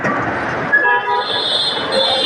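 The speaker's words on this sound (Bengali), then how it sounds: "মেট্রো রেল দেখতে পাচ্ছেন মেট্রো যাচ্ছে" A Dhaka metro rail train passes overhead near the Dhaka University and Shahbagh area at night, a loud, continuous broadband rush with a thin high whistle as it runs by.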